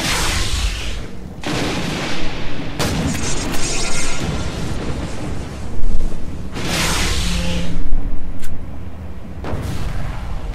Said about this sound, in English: Another buckshot.